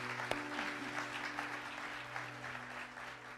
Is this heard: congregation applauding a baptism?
yes